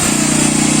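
Krisbow Silent 2000 W generator running: a steady, loud engine drone with an even low hum and constant tone, close and unbroken, with no speech.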